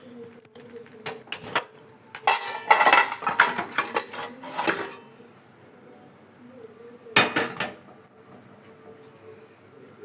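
Metal pan set down on a kitchen stove for dry-roasting peanuts, with clattering clanks and scrapes in two bursts separated by quieter room sound, no talking.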